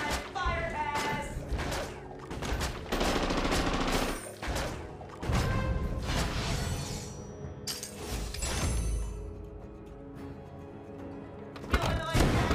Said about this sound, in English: Humanoid cannon firing!